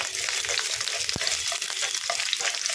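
Sliced vegetables sauté in a hot pan with a continuous bright sizzle, broken by soft scraping stirs and one sharp tap of utensil against metal.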